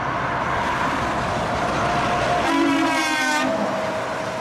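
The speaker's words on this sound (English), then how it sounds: "Will he honk this time?" A passing truck from WL French sounds a loud, sustained horn blast over steady roadside traffic rumble, the honk rising for about a second before cutting off.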